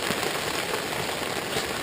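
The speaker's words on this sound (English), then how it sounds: "that's probably the heaviest rain that we've had the whole trip so far" Heavy rain pours down steadily during a jungle trek toward Carstensz Pyramid, a dense, continuous hiss of drops hitting close by with no letup and no talking.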